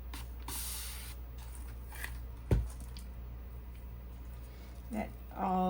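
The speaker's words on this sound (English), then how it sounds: "Let me just spray it." Spray bottle misting over poured resin to clear bubbles, a few short hissing bursts close by, with rustling and handling sounds around them.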